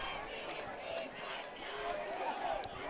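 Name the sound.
crowd at a high school football game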